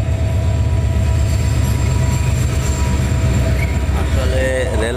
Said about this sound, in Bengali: মালবাহী ট্রেন।